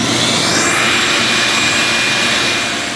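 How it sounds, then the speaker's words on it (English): A Ridgid 5 horsepower corded wet/dry shop vacuum with a fine particulate bag running steadily, a loud continuous roaring whine with a high airy hiss, heard alone and close. "So the 5 horsepower rigid corded competitor came in right around 87 decibels."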